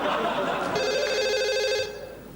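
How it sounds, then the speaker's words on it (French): A telephone rings with a sustained bright electronic trill lasting over a second, then cuts off, set against a busy background of overlapping voices and studio noise in a French comedy sketch. "C'est le téléphone."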